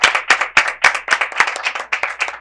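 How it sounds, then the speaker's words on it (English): A small group clapping for school bus drivers at a school board meeting, with sharp, distinct claps in a rhythmic pattern, about ten bursts over a couple of seconds, close and loud. "Let's give you a round of applause."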